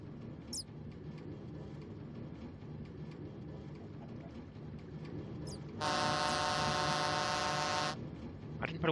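A modded Minecraft train pulls into a station with automatic doors, a steady rumble running under a loud, sustained horn-like tone that sounds for about two seconds near the end.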